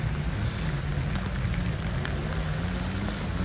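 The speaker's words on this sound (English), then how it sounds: "as you can see, it's raining again, which is awesome." Steady rain pours down during a motorcycle trail ride, a dense, even hiss under a low engine drone, with no talk.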